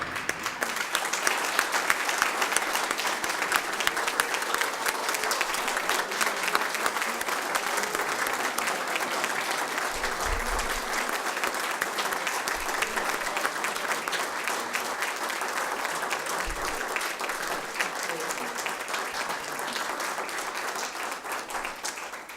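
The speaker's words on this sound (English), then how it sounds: "Let's give him a round of applause on his own." A school board meeting audience gives sustained, steady applause for a district honoree, a dense even wash of many hands clapping throughout with little variation and no one speaking.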